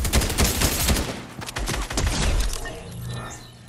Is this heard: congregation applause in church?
no